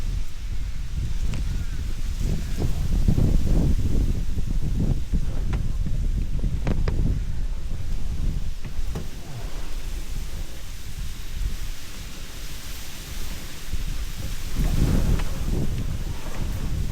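Steady wind buffeting the microphone outdoors at a fishing spot along Australia's Great Ocean Road, with rustling gusts rising and falling throughout and brief light knocks, no talk.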